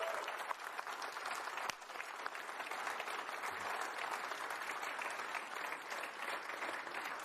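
A live studio audience at a McLaren Formula 1 livery reveal, cheering and clapping in a steady, dense roar of applause that stays strong throughout without a break.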